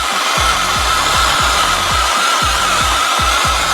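A heat gun warms a part beneath a 2006 Chevy Impala SS during a floor water-leak repair, giving a loud, steady airy blowing roar with a faint regular low thumping underneath throughout.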